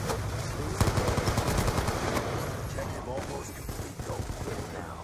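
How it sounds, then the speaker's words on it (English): Gunfire in Black Ops 2 as a player shoots at a care package: rapid automatic bursts with dense overlapping shots, loud and close, over game background noise. "He's gonna start shooting that thing right now."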